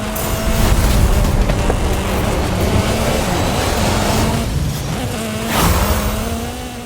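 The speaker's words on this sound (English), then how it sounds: "And I'm in a rally vehicle," A rally car races off-road in Forza Horizon 5, a loud continuous engine drone with shifting revs and rumbling across the whole stretch, no voices over it.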